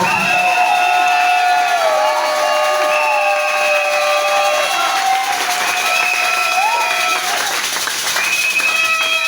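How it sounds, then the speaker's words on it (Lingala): A church congregation at a Sunday service cheers and acclaims, dense crowd noise carrying high, wavering ululation-like cries that rise and fall continuously, loud and close throughout. "Est-ce qu'il y a quelqu'un qui peut acclamer le Seigneur Jésus?"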